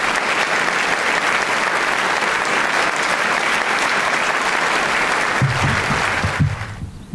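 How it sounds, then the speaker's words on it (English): Sustained applause from a graduation commencement audience, a dense steady wash of many hands clapping that stays loud for several seconds before quickly dying away at the end. "Let's give them all a big round of applause."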